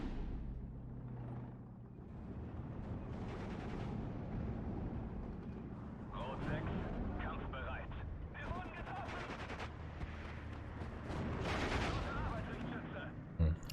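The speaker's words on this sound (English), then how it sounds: "That mortar fire doesn't do too much." Mortar fire in the World War II strategy game Steel Division 2, a string of muffled distant blasts and rumbling impacts under talk.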